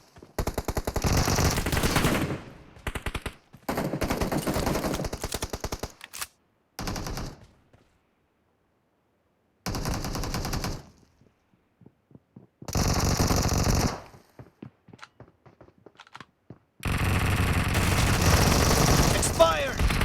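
Bursts of automatic gunfire from the mobile battle-royale game BGMI, loud rapid volleys broken by short silences, with fragments of in-game announcer voice between the shots.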